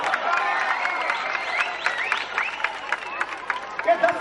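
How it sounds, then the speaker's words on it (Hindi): A crowd at a political public meeting claps and cheers together, a dense wash of applause with a few louder claps breaking through near the end. "ठोको ठोको ताली ठोको।"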